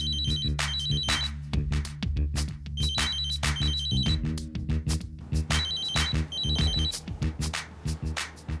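A telephone rings in repeated double bursts of bright electronic trills, set over steady background music with no talking.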